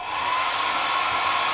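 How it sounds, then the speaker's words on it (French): A hair dryer on a low heat setting blows steadily and loudly at close range, drying glue on a fake skull, a continuous whooshing rush with a faint motor whine. "je viens prendre un sèche-cheveux pour que ce soit un peu plus rapide"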